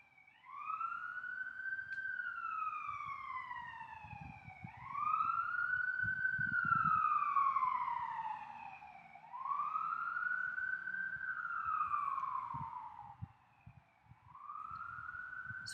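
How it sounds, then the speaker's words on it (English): A wailing siren rising and falling in slow repeated sweeps, moderately distant, over a low rumble of passing traffic. "Just let the sirens go by."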